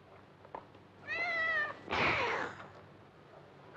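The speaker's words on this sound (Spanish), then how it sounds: "Nunca me ha querido ese gato." A cat meows twice indoors, a clear drawn-out meow followed by a louder, harsher yowl, close and alone against a quiet background, from a 1968 Mexican horror film.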